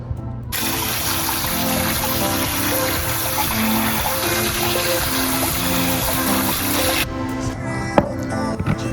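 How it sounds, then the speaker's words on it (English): Water from a tap runs steadily over canned black beans being rinsed in a sink, a continuous splashing trickle that stops abruptly near the end, followed by a few faint kitchen clinks. "I'm gonna rinse these really quick and put some of this in the bowl"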